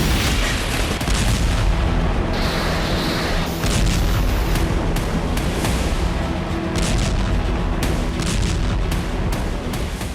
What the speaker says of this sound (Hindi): अमेरिका से अनुमति मिलने के बाद यूक्रेन ने रूस की धरती पर अटैकमस मिसाइलें फायर की